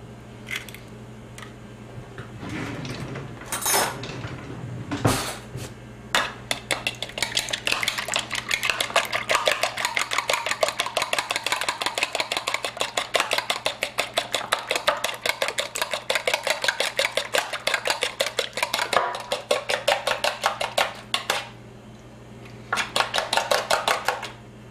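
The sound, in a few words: whisking two small eggs in a bowl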